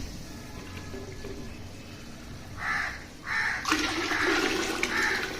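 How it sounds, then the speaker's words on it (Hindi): Water gushes and splashes into a metal pressure cooker in several pours, growing louder and steadier toward the end, close by. "तो अब इसमें हम पानी डालेंगे"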